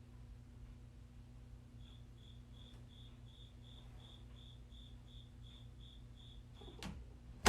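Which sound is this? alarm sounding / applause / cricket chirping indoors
cricket chirping indoors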